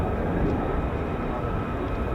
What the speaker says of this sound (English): F-15, gear down, Mildenhall.